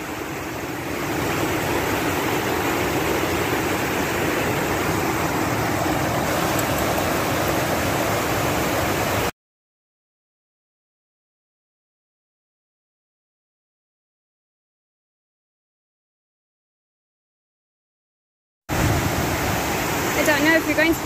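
A full river rushes loudly in a dense, constant roar of water, cutting out abruptly for a long silent gap before returning just as strongly.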